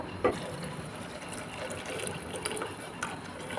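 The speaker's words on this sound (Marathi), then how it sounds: "आता आपल्याला ह्याच्यामध्ये हवाय तेवढं गरम पाणी टाकायचं" Hot water is poured into a small cooking pot while whole masoor dal is cooked. A steady rushing pour with faint metallic clicks runs throughout, with no talking.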